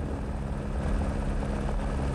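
A rescue helicopter near a motorcycle rally base camp gives a steady, continuous rotor and engine drone, heard alone at a constant moderate level with no talking.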